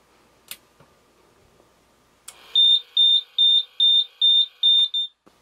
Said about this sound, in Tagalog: Ito nga pala may buzzer din.